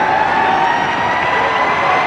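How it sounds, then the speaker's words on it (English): Ground siren at a 1993 NSWRL rugby league match between Parramatta and Brisbane, sounding loud and steady as a single sustained tone marking the end of the first half. "There's the siren, the end of the first 40."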